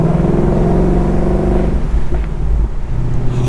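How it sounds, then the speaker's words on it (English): Active exhaust on a 2019 Ford Mustang GT burbling and popping on a drive with the top down, a steady low rumble carrying loud irregular crackles up close. "Oh, I'm getting burbles and pops this morning."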